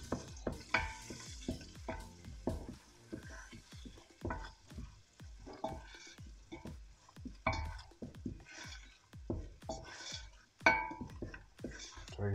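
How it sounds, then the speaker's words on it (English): Whole spices and curry leaves frying in a hot pan, stirred with repeated scraping strokes over a steady sizzle, close and fairly loud, with a voice talking at times over the cooking. "So you fry up these spices for about 2 to 3 minutes"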